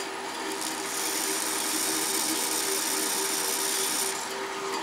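A Delta saw being converted for metal cutting runs steadily with its blade moving, giving a continuous mechanical whir and drone with a constant tone throughout.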